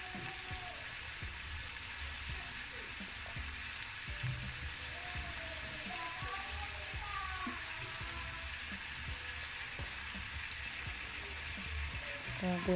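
Capsicum cooking in a pan for a Chinese vegetable curry, kept in constant motion with a soft continuous sizzle and faint scraping stirs, fairly quiet and steady throughout.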